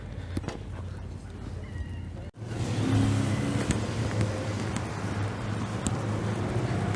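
A convoy of Citroën 2CV cars arrives in a car park after driving up from Leeds, their engines a low, steady rumble that swells as they draw near, with wind buffeting the microphone.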